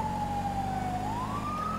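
Wailing police car siren in the video game GTA V with the LSPDFR mod, a loud continuous electronic tone that dips and then rises again over a low engine rumble.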